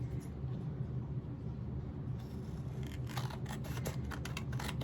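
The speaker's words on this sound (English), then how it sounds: "I'm going to trim this off to even it up." Scissors trimming the edges of a scrappy fabric postcard, a few quiet crisp snips and clicks over a low rumbling background, faint and close.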